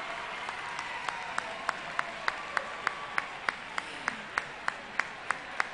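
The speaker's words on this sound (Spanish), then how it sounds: "Que con esta ovación," Ovation at a technology fair awards ceremony: a moderate bed of crowd clapping, with one set of sharp, evenly spaced claps standing out close by in a steady rhythm.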